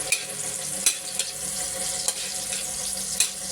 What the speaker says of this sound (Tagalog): And then, ihulog na natin ng sibuyas.